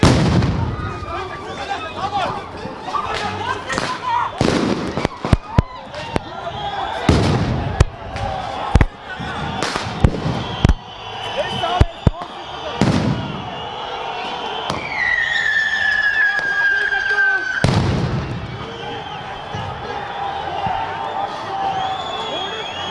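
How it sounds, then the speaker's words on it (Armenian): Police stun grenades explode at a street rally, with repeated loud, sharp blasts echoing, some in quick succession and others spaced apart. Crowd noise, a whistle and shouting voices run underneath. "որոտաց հատուկ միջոցների առաջին պայթյունը"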